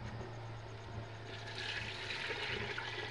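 Water pours steadily into a cooking pot of lemongrass broth in a home kitchen on Negros Island, a continuous rushing splash that swells slightly midway, over a low hum.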